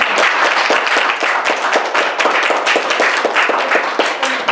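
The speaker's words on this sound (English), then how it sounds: "So a round of applause." Audience at a panel event gives a round of applause for the panelists, steady dense clapping from many hands, fairly loud and continuous without talk.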